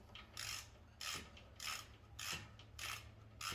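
Ratchet wrench tightening the drain plug back onto a Scag VRide II 32-inch mower, giving six evenly spaced bursts of clicking as the handle swings back and forth, close and clear with no talk.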